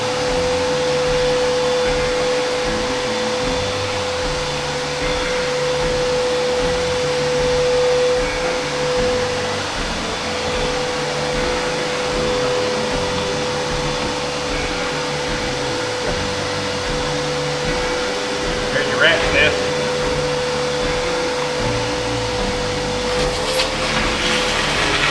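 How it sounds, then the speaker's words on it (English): A vacuum cleaner runs steadily and loudly while cleaning dirt and grime from a neglected 1954 Chevrolet Corvette, a continuous whining drone with a sustained tone and small shifts as the nozzle moves. "we've cleaned some of this area up, just general vacuuming"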